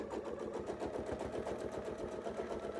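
Sewing machine quilting a fabric sandwich along a template's reference lines, a steady fast run of rhythmic needle strokes held continuously at moderate, close level with no talk.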